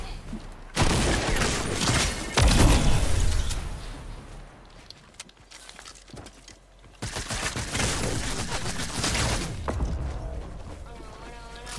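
Fortnite gunfire comes in loud bursts of rapid shots and booms, separated by quieter stretches, while a player talks over the action.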